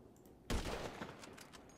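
Gunfire in the GTA Online video game: a sudden loud burst of shots erupts after a brief quiet and continues as a dense fusillade that tapers slightly, with no talk over it.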